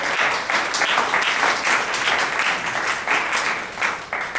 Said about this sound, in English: How about we give her a round of applause?